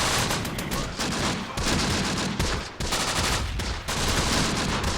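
Sustained machine gun fire roars almost without a break in the wartime strategy game Close Combat, during an assault on an Italian desert stronghold. The dense, loud crackle dips only briefly between bursts.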